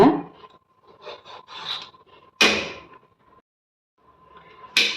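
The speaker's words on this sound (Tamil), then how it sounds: "பீர்க்கங்காய் பார்த்தீங்கன்னா தோல் சீவி எடுத்தாச்சுங்க" A knife strokes along a ridge gourd, peeling its skin in a few close, scraping rasps separated by pauses, with two sharper strokes standing out.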